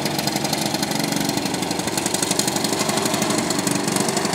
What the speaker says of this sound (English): This is only the second lawnmower I've seen